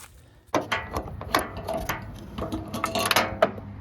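A loose bolt drops and clatters with sharp metallic knocks and rattles, close by, during hands-on bodywork on a Honda Element fender.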